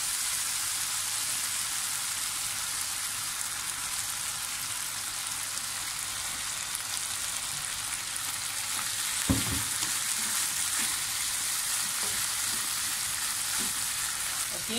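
Tempeh and tofu fry in soy sauce while being stirred, a steady soft sizzle close at hand with a few scraping stir knocks of the spatula near the middle, no talk.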